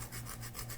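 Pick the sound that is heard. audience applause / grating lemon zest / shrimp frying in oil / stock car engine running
grating lemon zest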